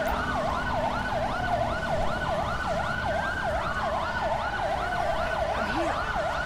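Wailing ambulance siren from the LSPDFR video game cycles steadily up and down, loud and continuous for the whole stretch, with a faint low engine hum beneath and no talking.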